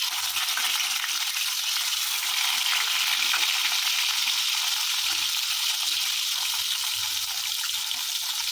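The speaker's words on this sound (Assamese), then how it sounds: "মাছখিনি ধুনীয়াকৈ ফ্ৰাই কৰি ল'লোঁ।" Fish seasoned with turmeric and salt fries in a pan, giving a steady, loud, hissing sizzle that runs unbroken throughout with no voices.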